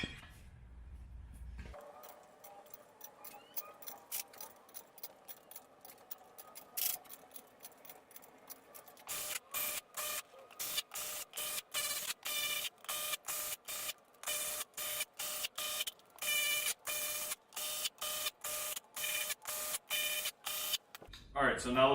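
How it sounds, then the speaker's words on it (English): Electric impact gun run in rapid repeated bursts to take the slack out of wheel bolts, sharp mechanical chatter growing dense and loud in the second half after a quieter stretch. "I am going to use an electric gun just to take out the slack of the bolts"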